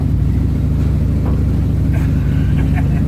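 A 1970s Dodge street van on the road, its engine rumbling loud and steady with a deep low drone throughout, heard from inside the cab.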